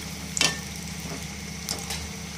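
Food frying until crisp in a pan gives a quiet, steady low sizzle, with two brief louder crackling spurts rising above it.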